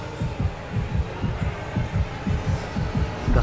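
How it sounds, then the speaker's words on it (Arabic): A quickening heartbeat in the video game Death Stranding, a steady run of low thumping double beats that drifts faster across the stretch, loud and close with no talk over it. "دقات القلب في تسارع."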